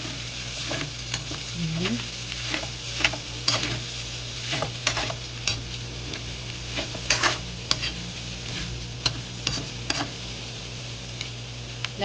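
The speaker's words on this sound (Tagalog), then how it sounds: "Ngayon ay haluin natin" Sautéed bamboo shoots (labong) sizzle and fry in a pan while being stirred, with steady close crackling broken by scraping and clicks of the utensil against the pan, and a brief spoken word.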